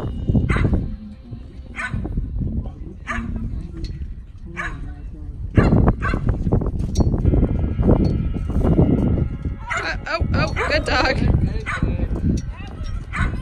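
A dog barks in short repeated bursts amid people talking, close and fairly loud, with several yips and whimpers mixed in at a horse show-jumping event.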